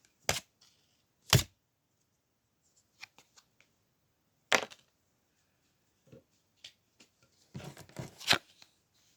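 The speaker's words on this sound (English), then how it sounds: "make sure you make a shuffle like that" A deck of playing cards shuffled by hand during a card trick, heard as several short, crisp riffling bursts separated by quiet pauses, with a denser cluster of shuffles near the end.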